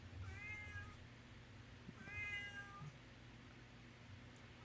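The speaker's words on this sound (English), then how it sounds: "cat is hungry" A cat meows twice, a drawn-out call near the start and another about two seconds in, heard clearly over a steady low hum from a nearby television broadcast.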